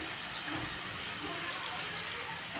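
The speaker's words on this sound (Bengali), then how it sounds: "তালের ফুললি পুরো লাল লাল করে ভাজা হয়ে গেছে" Palm fruit fritters deep-frying in hot oil, giving a soft, steady sizzling hiss that holds evenly throughout at a fairly low level.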